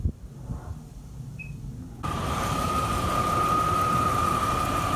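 A Rover SD1 engine fitted with carburettors starts after a quiet pause, then settles into a loud, steady running roar with a constant whine, close by and with no talking.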